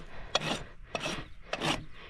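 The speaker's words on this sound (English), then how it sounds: "I can get these heels and the backs of my quarters with my rasp just fine" A farrier's rasp dragged across a horse's rear hoof, three rough scraping strokes in a steady back-and-forth rhythm, close and moderately loud with no talking.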